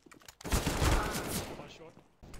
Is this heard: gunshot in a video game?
yes